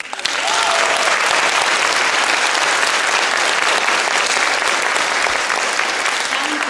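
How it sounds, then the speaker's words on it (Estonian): Audience at a ballet studio fairy-tale concert performance applauding the dancers, a dense, steady round of clapping that fills the whole stretch, with a voice faintly heard early on. "Tantsijad, palun aplausi."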